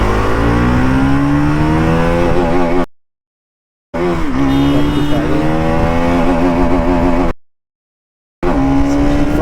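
A Bajaj Pulsar NS 200 BS6 motorcycle accelerates hard up through its gears, the loud engine note climbing in pitch, dropping briefly at each shift, then rising again, with two short gaps of silence.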